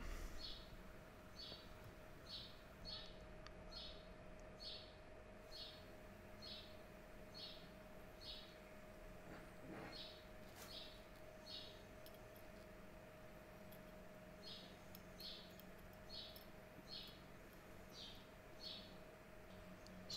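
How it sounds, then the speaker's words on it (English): Birds in a house repeat a regular high chirp about every half second, faint and somewhat distant over a quiet room hum, continuing steadily with a short break in the middle. "So as you might hear in the background, there's a bird infestation in my house."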